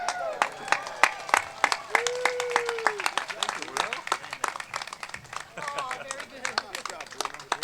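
Crowd applause at an outdoor Let Freedom Ring Fourth of July ceremony, dense sustained clapping with scattered cheers and a voice rising over it, continuing steadily throughout.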